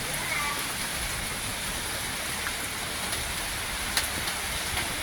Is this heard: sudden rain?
yes